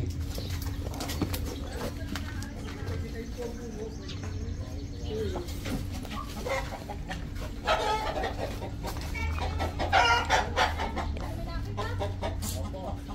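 Chickens cluck and a rooster crows amid a busy rural yard, with steady low hum, scattered knocks and clip-clop-like steps; bird calls rise louder around the middle and later, while people talk nearby.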